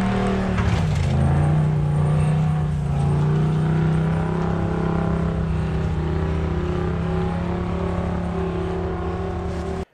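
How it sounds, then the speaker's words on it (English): A 2019 Ram Power Wagon's naturally aspirated V8, running with basically no muffler, roars loud and steady close by. A brief swell comes at the start, then a constant deep drone holds until it cuts off at the end. "I love having a naturally aspirated V8 with a basically no muffler on it."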